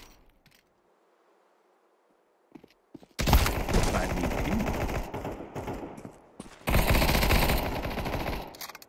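Counter-Strike 2 gunfire from a match, two loud bursts of rapid automatic shots after a quiet stretch, the second burst following a brief pause.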